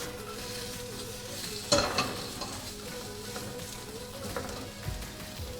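Bell peppers fry in a pan with a soft, steady sizzle. A clatter of stirring sounds once, and a few quieter utensil scrapes follow. No voices are heard.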